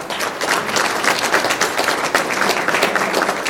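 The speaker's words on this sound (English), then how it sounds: "let's give them a round of applause" Audience applause for past council chairs at a Lions district governors breakfast, dense and loud clapping that continues steadily throughout.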